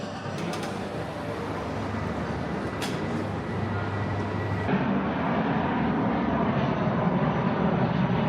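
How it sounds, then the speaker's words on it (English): A broad, steady jet roar from an airplane passing overhead near Heathrow Airport, loud and continuous, with traffic-like rumble underneath. "There's a plane flying over"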